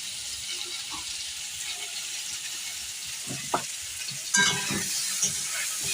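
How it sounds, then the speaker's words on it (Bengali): Ridge gourd fries with turmeric in a pan, giving a constant close sizzle with a few sharp scrapes and clatters of stirring toward the end, no voices. "লাল লাল করে ভেজে নেবো ঝিঙেটা।"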